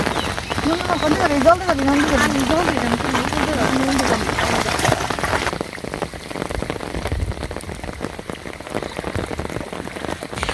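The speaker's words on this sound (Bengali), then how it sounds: "আষাঢ়ের বৃষ্টি শুরু হয়ে গেছে" Steady monsoon rain in Bangladesh patters down continuously, close and even, while someone speaks over it for the first half.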